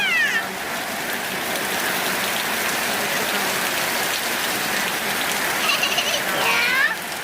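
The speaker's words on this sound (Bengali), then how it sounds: "বাইরে বৃষ্টি হচ্ছে" Steady rain falls outside with a constant dense hiss that fills the whole stretch, while a cat meows close by near the start and again toward the end.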